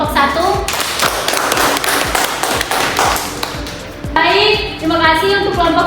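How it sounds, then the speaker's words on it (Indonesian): A classroom audience applauds a student group after its biology presentation, with many quick hand claps running steadily and several voices chattering and calling out over them. "Beri aplaus untuk kelompok 1."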